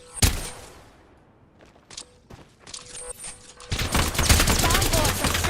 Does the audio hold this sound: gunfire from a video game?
yes